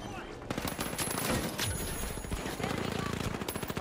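Rapid automatic gunfire in the online shooter game The Finals, a dense, loud, continuous stream of shots with clattering impacts, while players talk over it.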